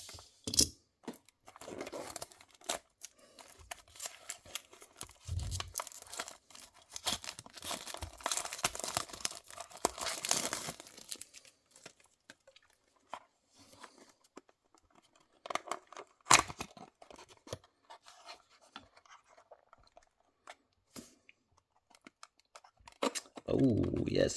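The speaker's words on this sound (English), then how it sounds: "Let's open up the plastic." Plastic packaging on a diecast Chevrolet DHL van model box is torn and crinkled in scattered bursts of rustling, snipping and crackling, close and fairly quiet, with pauses between the bursts.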